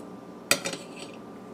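A metal spoon gives one sharp clink against a vegetable shell or bowl, followed by a couple of softer scraping taps as the seeds are scooped out, close and fairly quiet.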